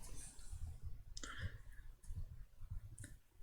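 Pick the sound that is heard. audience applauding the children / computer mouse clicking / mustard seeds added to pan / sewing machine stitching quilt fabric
computer mouse clicking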